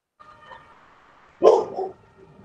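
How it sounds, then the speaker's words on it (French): A single close, loud dog bark rises out of a quiet room with faint tonal background noise, followed by a short trailing yelp. "Alors, il y a un chien."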